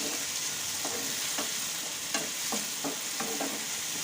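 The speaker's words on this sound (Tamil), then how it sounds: "நம்ம தக்காளியும் அப்படியே போட்டுடலாம் தக்காளி நல்லா பேஸ்ட் மாதிரி நல்லா வதங்கணும்" Tomatoes frying with onions in a pan for chilli idli, a constant hiss of sizzling broken by several spoon scrapes and taps as they are stirred.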